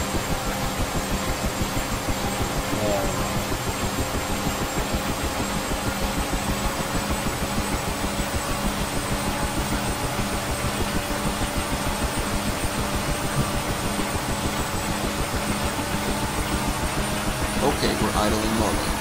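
A steady engine drone idles continuously with a low rumble and faint high whine, a UH-1H Huey helicopter in the DCS World game, constant and loud throughout, with occasional voices underneath.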